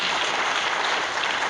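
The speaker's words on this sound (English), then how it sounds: "If you want to clap for the Lord, you better clap." A church congregation claps together during a Sunday service, producing a dense, steady wash of applause that fills the whole moment without pause.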